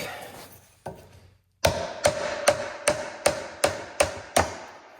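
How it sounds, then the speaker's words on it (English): A dowel is hammered to knock pins out of a chair joint, about eight sharp wooden taps struck at a steady rhythm after a couple of lighter knocks, close and clear. "So I'm gonna grab a dowel that's the size of this for hitting those through."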